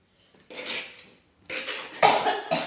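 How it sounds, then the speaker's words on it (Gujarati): A person coughs several times close by, in harsh bursts with brief pauses between them, from spice fumes in a kitchen. "થોડુંક ઉડે છે બહુ એટલે ઉધરસ થોડી આવે છે"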